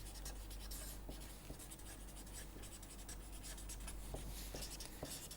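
Pen or chalk writing during a lecture, a faint, continuous scratchy rasp with a few sharper taps and strokes scattered across the span, quiet and close with no talking.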